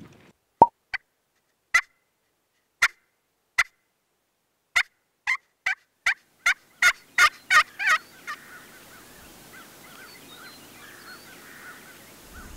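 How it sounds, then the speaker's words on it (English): Wild turkey gobbling during an evening public-land hunt in Nebraska, a loud series of sharp calls that starts sparse, then speeds into a rapid burst of about eight close notes before fading into quiet outdoor ambience. "mostly just listening for gobbles tonight for spots for the morning"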